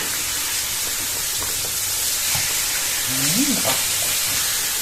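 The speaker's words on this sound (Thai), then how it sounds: "โอ้ เดือดแล้วค่ะ" A pot of liquid boiling on a stove for a Thai dish, giving a steady broadband hiss and bubbling throughout, with brief low murmurs of a voice near the end.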